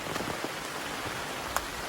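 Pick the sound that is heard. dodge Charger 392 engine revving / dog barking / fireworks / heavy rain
heavy rain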